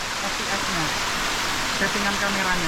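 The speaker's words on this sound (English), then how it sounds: "I am now in the waterfall." Tumpak Sewu waterfall in East Java, Indonesia, roars as a dense, steady rush of falling water heard from up close, with no breaks.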